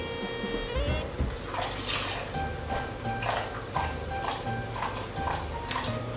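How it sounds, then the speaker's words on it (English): A whisk working milk into eggs in a bowl for bread pudding, giving soft, wet, sloshing strokes that repeat in a slow, steady rhythm, close and moderately quiet with a faint background hum. "we're gonna put the milk in the eggs, and we have to whisk it slowly."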